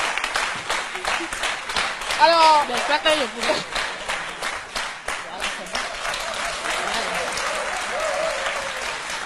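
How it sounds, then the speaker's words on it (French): Studio audience applauding on a television talk-show set as a female guest walks in and sits down, steady crowd clapping with a host's voice talking over it. "On l'applaudit très fort pendant qu'elle vient s'installer."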